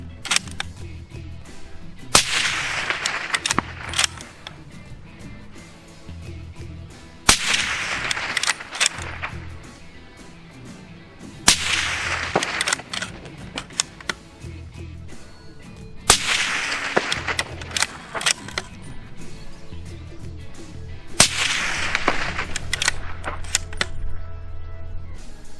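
Five separate rifle shots through a Yankee Hill Machine Nitro 30 suppressor on a .30 caliber rifle, each a sharp loud crack followed by a short fading tail, spaced several seconds apart outdoors.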